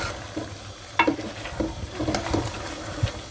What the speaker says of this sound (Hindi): तो चम्मच हिलाएंगे, उससे ये अच्छे से घुल भी जाएंगे